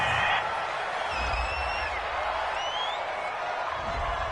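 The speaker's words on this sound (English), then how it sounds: "This home crowd, they're happy with that call." Home crowd in a football video game cheering a penalty flag on third down: a steady stadium roar with scattered whistles and whoops, fairly loud and constant, with no commentary over it.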